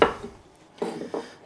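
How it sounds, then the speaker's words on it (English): An onion is chopped with a knife on a cutting board during kitchen meal prep, three sharp close knocks spaced apart with quiet between them. "So while I'm chopping up some onion, let's start by going over my menu."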